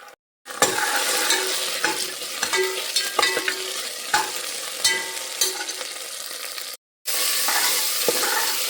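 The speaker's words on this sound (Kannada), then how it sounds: "ಇದಕ್ಕೆ ಶುಂಠಿ ಬೆಳ್ಳುಳ್ಳಿ ಪೇಸ್ಟನ್ನು ಹಾಕ್ತಾ ಇದ್ದೇನೆ" Ginger garlic paste is stirred into frying onions in a pan, giving a steady close sizzle broken by repeated spatula scrapes and taps, with a brief silent gap near the end.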